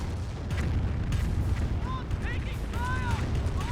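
An artillery barrage in the Company of Heroes video game: heavy booming impacts early on, followed by rising shell whistles arcing overhead against a rumbling battlefield background.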